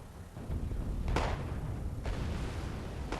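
Gunfire and booming impacts in the video game Wargame AirLand Battle, a steady rumbling battle bed punctuated by two sharp, bright cracks about a second apart, fairly loud and close.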